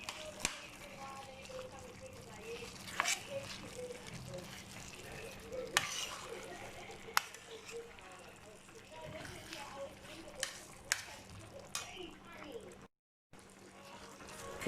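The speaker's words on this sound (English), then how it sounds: "Give it a good stir" A spoon stirs mutton mince curry with curry leaves in a pot, producing scraping and soft sizzling with intermittent clinks against the metal, while a person talks over it.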